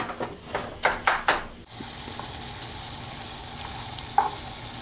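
Ground beef frying in a pan: a steady, close sizzle throughout, with a few stirring scrapes near the start and a brief clink later.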